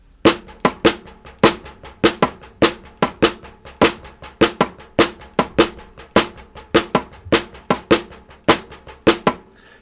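A drum kit plays a steady groove with the bass drum shifted onto the offbeat eighth notes, giving sharp, evenly spaced hits about twice a second, loud and alone without any voice.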